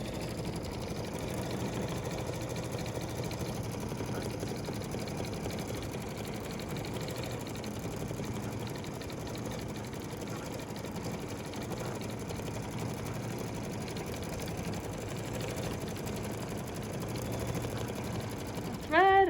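An embroidery machine stitching a wreath design runs with a steady, fast mechanical whir and rapid needle ticking, continuous and fairly quiet for the whole stretch, with a faint voice at times.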